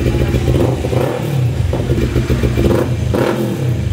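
A 2025 Triumph Trident 660 motorcycle revving loudly through its newly fitted replacement aftermarket muffler, the engine note rising and falling in repeated throttle blips, close and continuous.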